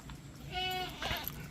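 Goats bleating at a farm feeding area while others graze: one drawn-out nasal bleat followed by a shorter, harsher cry, close and fairly loud over low outdoor rumble.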